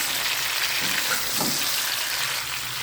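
About 1.5 kg of chicken fries over high flame in ghee in a kadhai, giving a dense, continuous close sizzle with occasional stirring scrapes and no talk.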